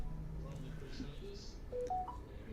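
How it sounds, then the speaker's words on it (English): Telephone dialing tones, a short run of rising beeps near the end, faint under low room noise and some background voices. "Oh, Vern's on the phone."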